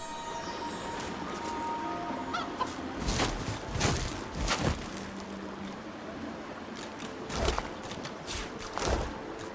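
A chicken in the fantasy role-playing game Divinity Original Sin 2 gives faint, scattered clucks over a soft, washing ambient background.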